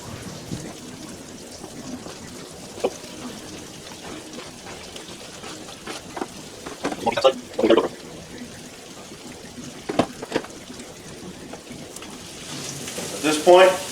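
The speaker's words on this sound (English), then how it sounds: "We're going to add it in the frying pan." Deer meat going into a frying pan gives a soft, steady hiss with scattered pops and bursts of spitting, growing louder near the middle and end, while a person talks intermittently over it.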